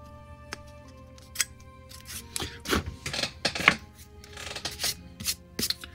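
Small tool scraping and filing at drilled holes in a 1:1400 scale plastic Star Trek U.S.S. Titan model kit, giving a run of close, soft rasping strokes and light clicks in a quiet room.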